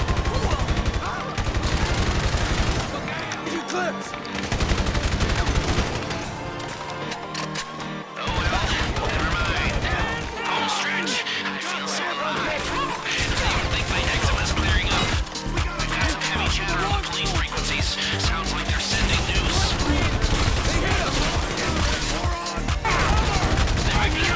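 Sustained gunfire during a casino shootout in GTA Online against armoured security guards, with dense automatic bursts and crashing impacts continuing almost without pause and loud throughout.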